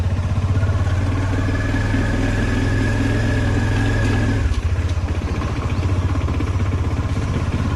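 A 2018 Bajaj Dominar motorcycle, started after more than two months standing, runs steadily with a loud, throbbing engine note close by. The pitch dips briefly partway through, then the steady running carries on.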